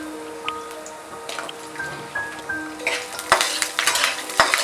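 Garlic sautéing in a pan alongside coriander seeds, with a light crackling sizzle, a few drips and clinks of a spoon against the pan, growing busier and louder toward the end, with no voices.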